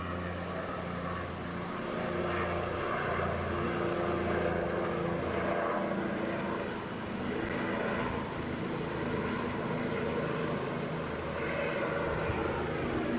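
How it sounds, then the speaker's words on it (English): Steady droning rotor and engine noise from a helicopter circling overhead, continuous and fairly loud, with no voices. "Yep, it's a helicopter."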